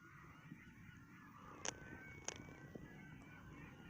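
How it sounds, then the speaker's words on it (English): Crows call twice in the background, short faint caws about half a second apart, over a low, steady outdoor hum with no talking. "Crows in the background."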